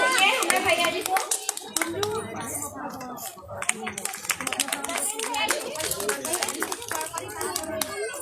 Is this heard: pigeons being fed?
no